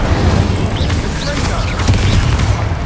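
Incendio fire spell cast repeatedly in Hogwarts Legacy, a loud burst of whooshing, crackling blasts with booming impacts over a dense, steady roar of combat noise.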